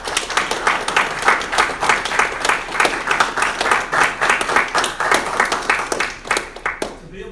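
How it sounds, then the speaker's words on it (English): A town council meeting audience applauds a retiring police officer, steady, full clapping lasting several seconds, with some voices mixed in before it tapers off at the close. "maybe for us to offer a round of applause"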